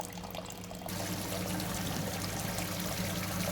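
Steady rushing pour of nearly boiling sparge water while brewing lambic beer, continuous and fairly close, getting fuller after the first second with a constant low hum underneath.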